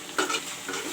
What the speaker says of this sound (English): the masala is frying along with the chicken and the potato.